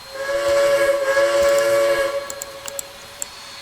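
A Southern Baldwin steam locomotive in the Trainz video game sounds its whistle in one loud, sustained chord of about two seconds, then quiet clanks and clicks follow.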